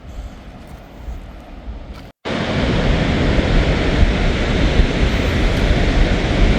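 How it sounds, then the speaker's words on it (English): A waterfall in Yosemite National Park roars as a loud, steady broadband rush that starts suddenly after a brief quieter stretch and a short cut, then continues unbroken with no talk. "We're going to check out the actual waterfall itself"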